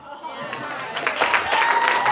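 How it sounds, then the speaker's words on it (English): Wedding guests at a reception applaud, a dense wash of clapping that swells and grows steadily louder over two seconds, with some crowd noise mixed in. "Big round of applause, our father of the bride."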